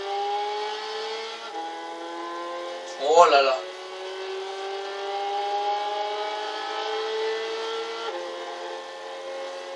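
Peugeot RCZ 2010 engine in Gran Turismo 6 pulls hard with a steady, slowly climbing tone and a couple of shifts, while a voice briefly exclaims over it.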